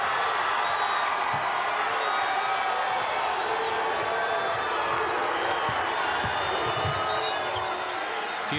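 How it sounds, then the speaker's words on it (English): Crowd at a boys' state championship basketball game in the NSAA Class C2 cheering steadily and loudly throughout, with scattered whoops, claps and ball bounces in a large gym. "The crowd's starting to get into it."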